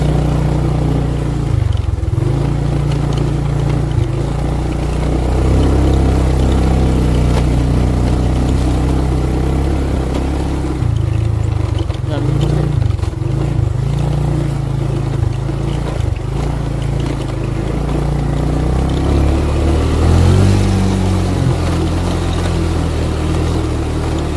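A motorcycle engine drones loudly and steadily while climbing uphill, with several brief throttle surges and dips over about twenty-four seconds and no speech.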